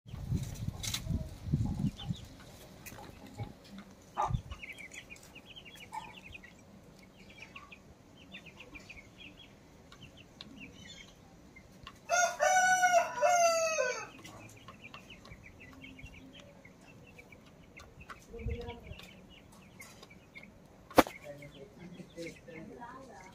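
Bhimavaram breed chickens at a farm near Kazipet junction in Hanumakonda, Telangana, cluck softly and intermittently, with one loud drawn-out crow in the middle, alongside scattered thumps and brief voices.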